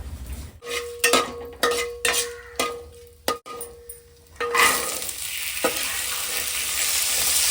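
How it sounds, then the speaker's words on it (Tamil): Sundal being tempered and stir-fried in a pan, a series of sharp metallic spoon taps against the pan followed by a rising, steady sizzle that continues to the end. "சுண்டல் வந்து தாளிச்சு ரெடியாக இருக்குங்க"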